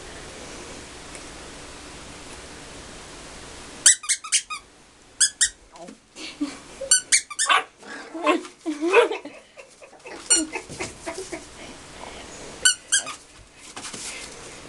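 Sharp rubber squeaks in quick bursts, alternating with short dog barks and growly yelps close by, with quiet gaps between the flurries.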